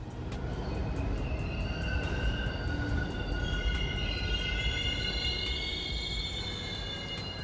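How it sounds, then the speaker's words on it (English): An express subway train rumbles steadily past on the opposite level at the 81 St–Museum of Natural History station in New York City, a loud, continuous roar with high metallic wheel squeal and rhythmic rail clatter lasting throughout. "the extremely loud rumbling of the trains on the opposite level"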